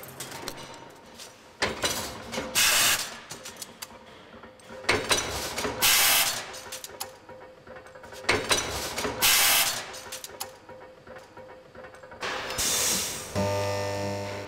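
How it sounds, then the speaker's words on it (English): Machines and presses cut, stamp, bend and shape steel parts for Brooks saddle frames, giving repeated loud mechanical clanks and ratcheting strikes in an irregular rhythm with short gaps of lighter workshop noise between them. "A dozen other machines and presses cut, stamp, bend and shape all the other parts of the saddle frames"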